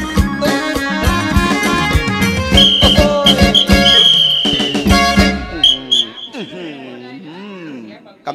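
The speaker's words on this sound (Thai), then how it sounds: "ไอ้คนเป่านกหวีดเนี่ย" Shrill whistle blasts from a blower at a live Thai luk thung country music show, piercing over the band's playing, a sustained held note and a few short toots before the music stops.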